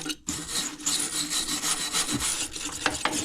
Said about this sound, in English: just clean the gasket and get all the soot down off of that